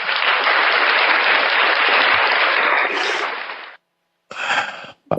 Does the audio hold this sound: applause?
yes